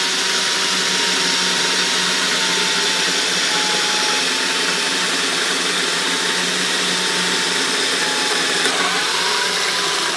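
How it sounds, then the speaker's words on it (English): A power drill boring a hole into the body of a one-piece guitar build plays as a steady, loud, continuous motor whine for the full duration, dipping briefly near the end before resuming, with no talk. "And now we have one hole drilled,"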